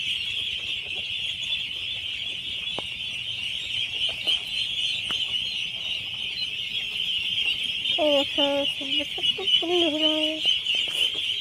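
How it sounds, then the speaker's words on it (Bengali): Ducks being fed call out in a short burst of harmonic quacks near the end, over a steady high insect-like drone and faint background activity. "এই দেখো খাবার দিচ্ছে এখন, এখন খাবার দিচ্ছে"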